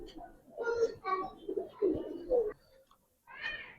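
Giribaz pigeons coo in a series of soft, rolling calls close by, several in quick succession, then a short pause before one more coo.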